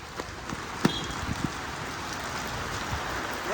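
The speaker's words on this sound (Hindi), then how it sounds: "हाँ बारिश तेज हो गई, भाग रहे हैं अब।" Heavy rain falls in a steady, close hiss, with a few sharper drops striking nearby surfaces now and then.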